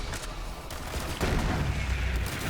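Westergun fire in the video game Borderlands 3 sounds as a dense, continuous stream of rapid shots and booms that grows louder and heavier partway through, with no talking.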